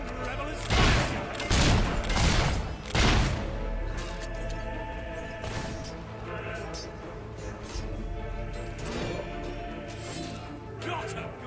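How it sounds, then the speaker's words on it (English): A rebel fires a gun at soldiers in Fable 3, with several sharp cracking shots clustered early, followed by quieter clatter and game voices talking over the battle. "Damn rebel is firing!"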